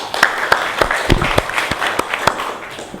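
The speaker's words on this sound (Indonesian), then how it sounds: "Tepuk tangan." A small group applauds in a classroom after an art lesson, with uneven, scattered claps over three seconds and no talking.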